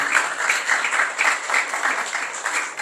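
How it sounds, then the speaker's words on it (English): Audience applause fills a community centre hall at a gathering about Palestine and Gaza. The clapping is dense, steady and loud, rising and falling in slight swells throughout without a break. "So give yourself a big round of applause."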